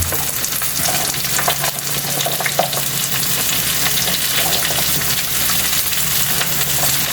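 String beans for adobong sitaw fry in a pan after the garlic has browned. A loud, steady sizzle runs throughout, broken by a few stirring scrapes, and no one speaks.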